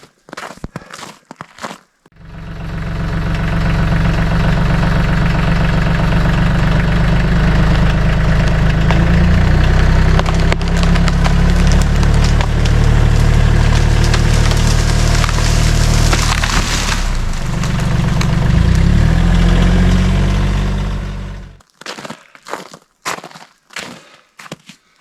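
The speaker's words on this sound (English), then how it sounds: "We're just gonna give it a little pull now with the tractor and see what happens here." A notched tree is pulled down by a tractor, its engine idling in the background while the wood splinters and cracks in a long, loud, steady rending that builds to a final crash before dying into quiet.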